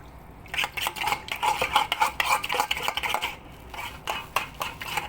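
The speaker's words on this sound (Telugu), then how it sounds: "బాగా కలిపి ఇలా పక్కన పెట్టుకోవాలి" Prawns being stirred by hand with pepper, salt and lemon in a bowl, giving a steady run of close, soft scraping and clinking strokes with a brief pause midway.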